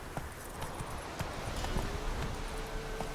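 Roach the horse trotting in The Witcher 3, hooves clopping in a steady, quick rhythm close by over a soft ambient wash, with no talking.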